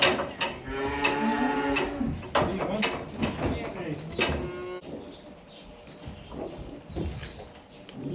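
Dairy cattle moo loudly and repeatedly nearby while being loaded onto a dealer's truck, with hooves clattering and people talking in the background.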